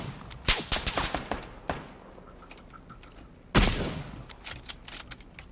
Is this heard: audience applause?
no